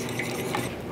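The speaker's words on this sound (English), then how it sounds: "So I'm gonna give our eggs a mix." Eggs being whisked in a bowl while making gluten-free pumpkin cream cheese bread, a steady scraping and clinking of utensil against the bowl for under a second, close and alone.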